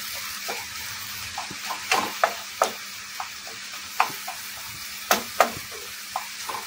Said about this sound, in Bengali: টমেটোটা একটুখানি নরম হওয়া পর্যন্ত রান্না করব